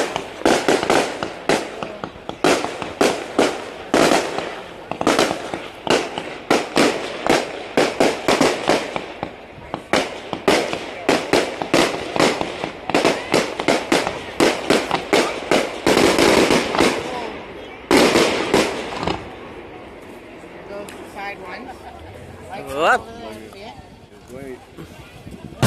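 A fireworks display at the Dunnville Mudcat festival booms and crackles in rapid, irregular volleys of sharp bursts, loud and close, thinning out toward the end as the barrage fades.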